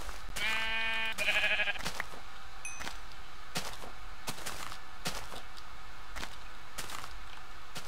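A sheep in Minecraft bleats twice in quick succession, loud and close, followed by a series of sharp, evenly spaced clicks or thwacks from in-game action.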